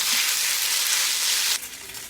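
Spaghetti carbonara stir-fries in a hot pan, giving a loud, steady bright sizzle that drops off abruptly near the end, with no speech.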